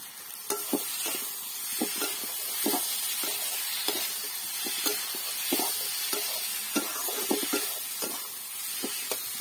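Potato curry with tomato and spices sizzling in a pan, a steady frying hiss under repeated scraping strokes of a spoon that come in a regular stirring rhythm, close and fairly loud.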